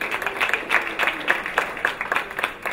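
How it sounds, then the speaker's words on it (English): Applause for panelists at a civic conference session: a modest group clapping in an uneven, pulsing rhythm, moderately loud and fairly close, with no talk over it. "Just another round of applause,"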